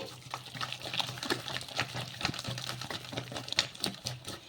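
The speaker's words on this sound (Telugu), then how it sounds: "ఇలా చేతితో బాగా కలిపేసుకోవాలి" Puffed rice batter being mixed by hand for fritters, a run of close, wet squelching and slapping taps in an uneven rhythm with no talking.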